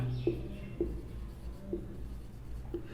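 Scratchy strokes of writing on a board during a biology lesson, with brief marks recurring every half second or so under a steady low room hum.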